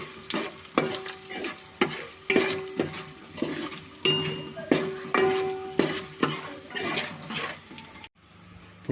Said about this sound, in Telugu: తాలింపు వేసుకుని శుభ్రంగా వేసుకుందాం మాడకుండా.